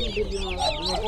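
One-week-old chicks peep densely at a crowded livestock market in Sokuluk, a continuous chorus of high chirps with low market murmur and a voice underneath.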